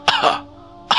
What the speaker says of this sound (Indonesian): Si Goblok itu malah terbatuk-batuk setelah dia mencoba menghisap rokok yang aku berikan tadi.